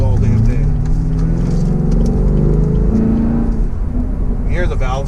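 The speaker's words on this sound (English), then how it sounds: "Hear the valves changing" A car engine idles and revs at a car meet, its deep, throaty exhaust note shifting in tone as the exhaust valves change, close and loud, with a brief rising whine at the end.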